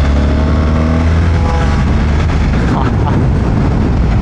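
A 50cc moped engine screaming at full throttle, loud and continuous with heavy wind buffeting over it, a voice talking underneath.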